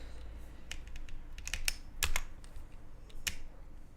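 Typing on a computer keyboard: scattered bursts of crisp keystroke clicks with short pauses between them, close and fairly quiet, with no talking.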